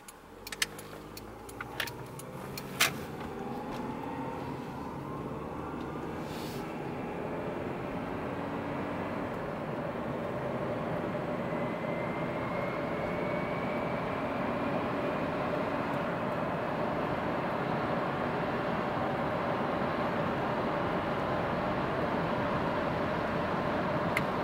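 A 2000 Honda Accord driving with a transmission range sensor fault, a steady engine and road drone that builds slowly and holds, heard from inside, with a few faint clicks and jingles early on.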